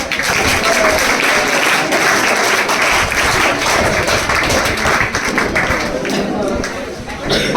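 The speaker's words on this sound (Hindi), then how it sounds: "ताली बजा दे भाई।" Applause breaks out at a ceremony honouring selected students and Agniveer army recruits from a coaching class, dense clapping from a sizeable crowd sustained throughout with voices chattering underneath.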